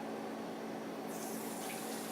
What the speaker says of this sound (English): there's the water. So I'm going to fill it up a quarter of a way